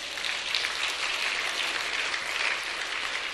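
A lecture audience applauds with continuous, even clapping that holds steady from start to finish, moderately distant and unaccompanied by any voice.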